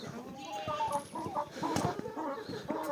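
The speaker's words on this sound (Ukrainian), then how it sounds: "випустила своїх курей" Several hens, just let out, cluck and squawk nearby in quick, irregular bursts, with a few sharper calls over a busy outdoor background.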